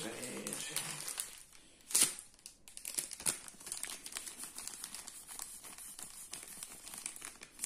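A plastic wrapper on a trading card booster pack is torn open and crinkled, with a sharp tear and then steady crackling handling that continues close up throughout.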